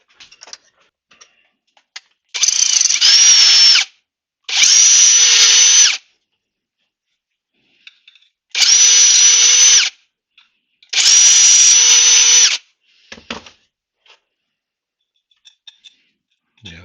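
A power drill opening holes out to 3mm in BSA B50 Gold Star side panels: four loud, close whining bursts of about one and a half seconds each, separated by quiet gaps with small clicks and handling noises.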